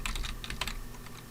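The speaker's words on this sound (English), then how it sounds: "And what I'm going to do is type" Fast typing on a computer keyboard, a brief close run of light clicky keystrokes with no voice.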